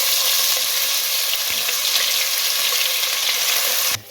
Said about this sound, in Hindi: अब लहसुन अदरक पेस्ट को इसके अंदर फ्राई कर लें।